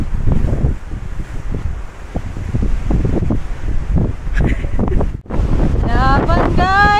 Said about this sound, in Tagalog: Lakas na hangin, guys.